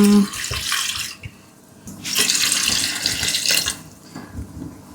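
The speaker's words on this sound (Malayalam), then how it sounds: "ഒരു 2 കപ്പ് വെള്ളം ഒഴിച്ചിട്ടുണ്ട്." About two cups of water are poured into a cooking pot in a home kitchen, two close, splashing gushes of a few seconds each separated by a quieter pause.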